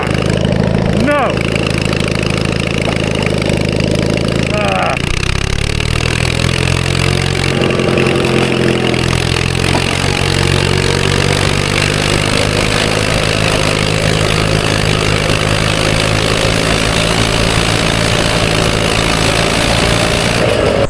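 A 450cc twin-cylinder engine on a push lawn mower roars loudly and continuously, with its pitch shifting as it revs up and down, and voices are audible in between.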